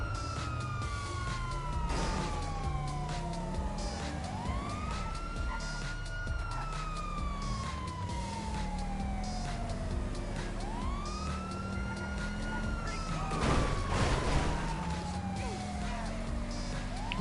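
A police siren wails continuously in long rising and falling sweeps, loud and fairly close, over a low rumble of traffic with a few brief bursts of noise.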